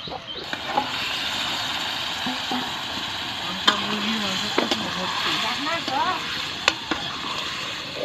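Food cooks over a fire at a village picnic with a continuous sizzling hiss and occasional clinks, while people chat nearby.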